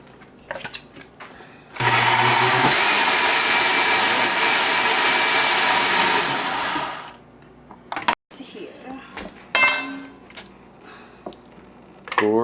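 A loud, steady blender whirs for about five seconds while blending kimchi ingredients with water, then cuts off, followed by clatter and handling noises.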